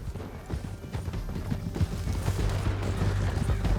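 Horse hooves galloping in Red Dead Redemption 2 during a canyon ride, a dense rolling clatter of hoofbeats under loud game noise and music, steady throughout with no pauses.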